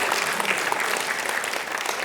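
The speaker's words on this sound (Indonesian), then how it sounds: "Berikan tepuk tangan buat Tuhan." A church congregation claps together in a dense, steady burst of applause that fills the room evenly for the whole moment, with no voices standing out.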